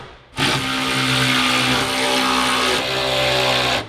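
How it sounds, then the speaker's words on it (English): A right angle drill whirs at high speed in one steady, loud, close burst lasting a few seconds, with a slight change in pitch partway through, then cuts off abruptly. "got a right angle drill"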